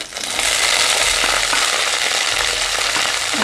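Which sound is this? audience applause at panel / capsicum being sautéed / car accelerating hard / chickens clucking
capsicum being sautéed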